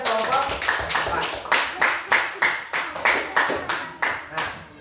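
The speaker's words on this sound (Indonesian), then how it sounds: "tepuk tangan buat Vino dan kelompok 4" A school class claps for a student and his group, giving a brisk run of loud, rhythmic hand claps that settle into a steady beat and then stop, with some voices underneath.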